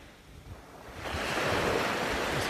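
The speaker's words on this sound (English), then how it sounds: "I'm taking a walk down the bridge. I'm sorry, down the beach." Ocean waves wash onto a beach at Bequia, a soft hiss that swells into a louder, rushing surge partway through, with some wind noise on the microphone.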